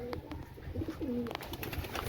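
Pigeons coo softly in a loft, low throaty rolling calls repeating at a moderate distance over a busy rustling background of wings and movement, with other faint bird sounds mixed in.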